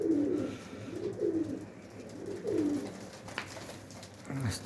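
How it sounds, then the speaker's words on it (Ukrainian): Pigeons coo in a slow repeating rhythm, soft low calls rising and falling several times at moderate distance, with faint background noises and a brief knock near the end. "Окремо запаруємо з голубочками, окремо закольцуємо."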